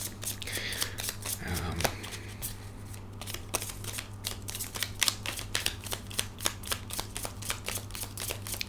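A deck of cards is riffled and shuffled repeatedly, a flurry of sharp rapid flicks and snaps, close up, with no talking.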